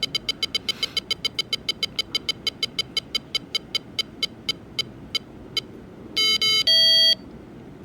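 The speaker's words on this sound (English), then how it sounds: "That was the sound of the winning tune." An electronic roulette wheel ticks rapidly in an evenly slowing run of bright beeps, then a short electronic winning tune of a few steady tones plays at the end.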